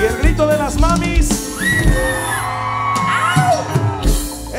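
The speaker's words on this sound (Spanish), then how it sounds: "Y el grito de las mamis" A crowd of mothers at a live cumbia concert lets out whoops and shouts, loud and close, with several overlapping voices rising and falling over the band's sound.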